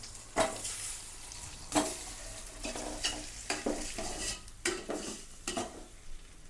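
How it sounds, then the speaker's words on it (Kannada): Boiled eggs fry in hot spiced masala with coriander powder and garam masala, a soft sizzle broken by repeated scraping and clattering strokes of a spoon stirring in the pan. "ಇದು ಬಿಸಿ ಆದಮೇಲೆ ಇದಕ್ಕೆ ಮೊಟ್ಟೆಗಳು ಹಾಕ್ತಾಯಿದ್ದೀನಿ"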